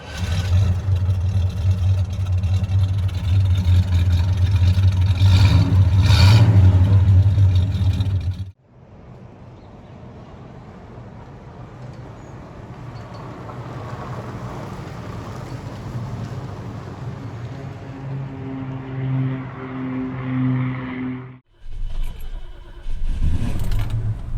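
1969 Ford LTD driving through city streets, a loud low engine rumble with rising and falling road and wind noise, a sudden drop to quieter cruising, then a surge again, with no voices.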